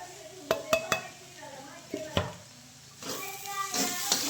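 A vegetable dish with chili powder and crushed peanuts is stirred in a pan, with several sharp metallic clinks and scrapes of a spoon against the pan, followed by a rising soft sizzle, with no voices.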